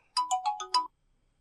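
A mobile phone rings with a short electronic ringtone melody of five quick tonal notes, clear and alone in a quiet room, then silence.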